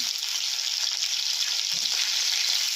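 Dried red chili, bay leaf, cloves and green chilies crackle and sizzle steadily in hot oil while cooking a millet khichdi, a continuous close, bright frying hiss with no talking.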